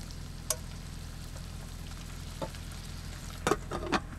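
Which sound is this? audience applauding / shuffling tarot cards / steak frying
steak frying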